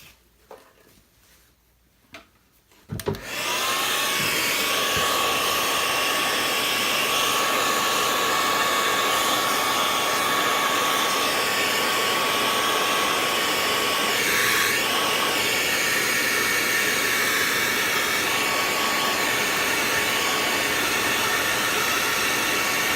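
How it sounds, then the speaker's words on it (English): A hair dryer switches on after a few seconds of quiet and blows loudly and steadily with a constant whine and airy rush until the end. "I'll take the hairdryer."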